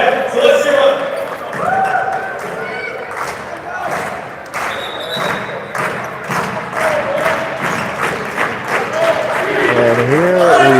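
Indoor crowd at a Toronto Premier League volleyball match claps and cheers steadily and loudly, with rapid rhythmic clapping filling the hall and occasional whistles or shouts rising above it.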